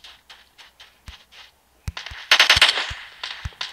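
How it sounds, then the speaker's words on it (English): Bursts of automatic gunfire in the shooter game PUBG Mobile, a few faint scattered shots followed by a loud rapid volley, with no talk over it. "Yeah, someone's shooting."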